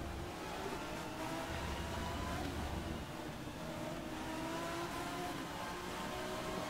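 A racing car engine in the BTCC Reloaded mod for Race 07 drones at moderate volume, its pitch shifting with gear changes, heard as a steady game-like motor sound under noise.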